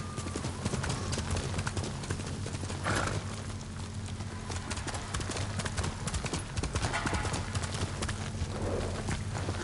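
In the video game Ghost of Tsushima, a horse's hooves clip-clop in a quick, steady gallop, loud and close, over a low ambient drone with a brief snort or whinny.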